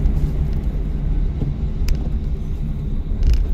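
A car engine runs steadily after a shift into third gear, a continuous low rumble with a faint tonal hum, close and fairly loud throughout.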